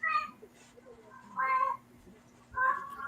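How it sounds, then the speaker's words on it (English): A cat meowing indoors, three distinct meows spaced about a second apart, fairly close and clear over a low steady hum. "I hear your cat."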